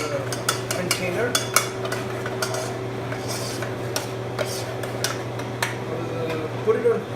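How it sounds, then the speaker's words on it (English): A spoon stirs tomato paste into oil in a pot on a hot burner, giving repeated metallic scrapes and clicks over a steady low hum, close and fairly loud with no talk. "I'll switch on my burner and mix it with the oils that is already in the container."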